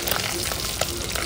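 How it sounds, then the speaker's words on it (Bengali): Turmeric powder and salt frying in hot oil, giving a steady close sizzle and crackle that runs without a break for the whole short stretch. "কতটা সুন্দর ভাজা হচ্ছে দেখো"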